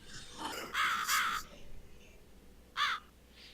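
Crow in the game The Cat Lady caws in three harsh bursts, a pair close together and then one more after a pause, loud and near against a quiet dark background.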